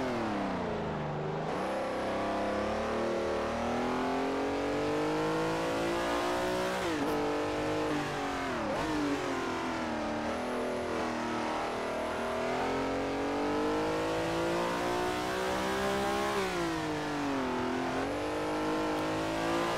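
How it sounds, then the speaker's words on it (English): Racing car engine from the GT Legends mod in the Assetto Corsa video game screams continuously through the gears, bouncing against the rev limiter with sharp dips and climbs in pitch, loud and alone with no talk. "Hit against that rev limiter there."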